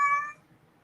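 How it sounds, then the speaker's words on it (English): A house cat lets out a single short, clear meow, close and fairly loud, that fades after about a third of a second into quiet room noise. "I'm going to mute so you can't hear the cat"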